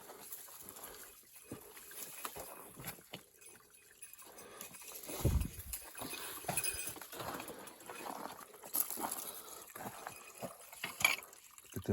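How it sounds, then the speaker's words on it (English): Running water of a stream in a flooded canyon with willows, a steady trickling wash heard throughout at moderate distance, with occasional clinks and small outdoor noises on top. "I hear running water here."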